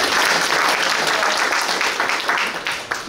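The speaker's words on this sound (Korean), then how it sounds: "다시 한번 고생하셨다고 힘찬 박수 부탁드리겠습니다." A lecture audience claps firmly for several seconds at the close of a talk on the climate crisis, a dense, even wash of applause that eases slightly as it ends.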